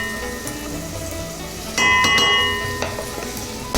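Sichuan bean paste sizzles in a hot wok as it is stir fried for hot pot, a steady close frying hiss that jumps louder partway through with light clinks of a utensil against the pan.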